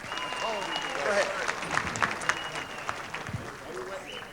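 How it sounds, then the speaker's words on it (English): Audience applause at a polka tribute dance, a moderate spread of clapping from a crowd mixed with chatter and voices over it. "let's give him a nice round of applause"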